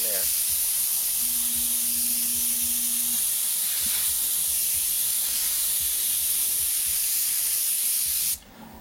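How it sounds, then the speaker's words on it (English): Airbrush sprays paint in a wide pattern through the tips, a loud, continuous hiss lasting several seconds before cutting off abruptly near the end, with a brief tone sounding early on. "wide spray through our tips like we did before"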